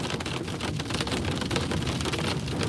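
Intense hail pelts down during an Alberta thunderstorm, a dense, loud, continuous clatter of countless rapid impacts drumming on surfaces nearby, with no voices.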